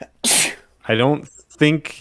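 A single sharp, loud sneeze bursts out close by, followed right after by someone talking.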